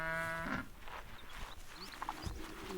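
A single cow in an Ethiopian highland herd gives a low, drawn-out moo up close, followed by quiet outdoor ambience with faint hoof and grazing sounds.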